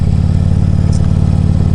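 A heavy 800-pound street motorcycle with low-end torque rumbles steadily up close while being ridden, a dense low engine drone holding even throughout with no speech.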